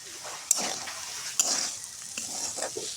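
Bitter gourd fries in an uncovered pan with a continuous close sizzle, broken by a few sharp spatula clicks and scrapes as the pieces are stirred.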